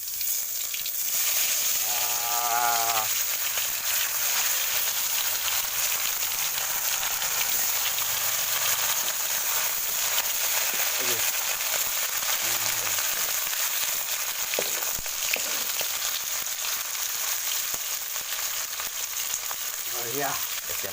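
Fish frying in hot oil in a village kitchen for an Assamese traditional fish curry: a steady, loud sizzle runs throughout, with a few brief spoken words over it.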